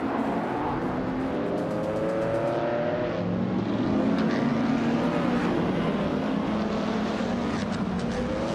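Several race car engines drone steadily in a racing video game, led by a classic 1960 Scarab IndyCar on Chang Track, their overlapping pitches rising and falling as the pack runs close together, loud and continuous with no talk.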